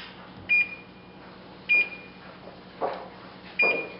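Oven control panel on the upper oven beeping while fast preheat is set: four short, sharp electronic beeps evenly spaced about a second apart, with faint button clicks between them.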